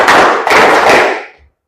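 Hands clap in unison as a group follows a counted clapping game, giving three loud, broad bursts close together before falling silent.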